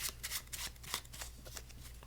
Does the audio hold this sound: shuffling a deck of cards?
yes